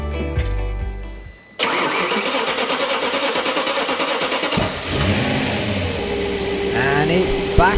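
An Audi B7 RS4 V8 cranks and fires up after new injectors and a walnut-blasting carbon clean, catching sharply and settling into a loud rough idle with a later blip of revs, a voice briefly heard.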